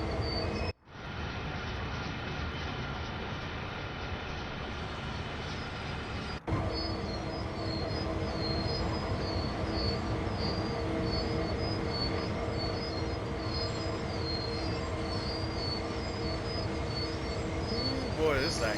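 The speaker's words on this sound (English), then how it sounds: "We're going to hit the whole train brake now." A GP38 diesel locomotive hauling a heavy train in Train Sim World 5 makes a steady, continuous rumble and hiss as the train brakes are applied, with no talk.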